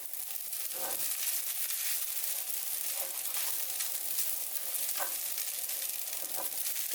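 Mushrooms sizzle and fry in a pan while being stir-fried for Thai tom yum shrimp spring roll filling. A steady hiss of frying runs throughout, with occasional soft scraping and stirring sounds, close and without talk.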